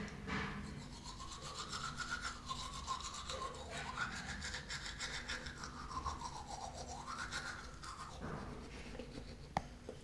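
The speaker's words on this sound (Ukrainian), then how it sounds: "І починаємо чистити зуби." A toothbrush with toothpaste scrubs teeth in quick, steady back-and-forth strokes, close and soft, continuing for the whole stretch with a faint tonal hum underneath.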